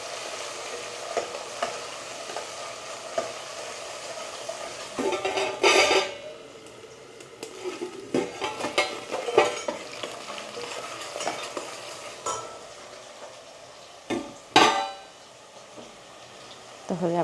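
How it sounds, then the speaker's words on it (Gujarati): Leafy greens and vegetables cooking in oil as they get mixed, with tomato and thick potato slices to follow: a faint background sizzle broken by intermittent scraping and clanking stir strokes, with a few louder knocks near the end and some indistinct talk. "પાંદડી ને એવું બધું તો તેલમાં કૂક કરી નાખીએ. બધાને મિક્સ કરી દઈએ."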